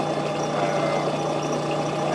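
An engine fitted into a home-built wireless trolleybus idles steadily with a low, even hum and faint mechanical knocking, close by, with some air leaks as it pumps up.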